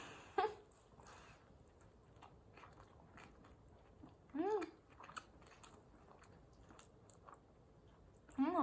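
Someone biting into and chewing a McDonald's hamburger, quiet close crunches and soft mastication in a few bursts, with brief vocal sounds in between.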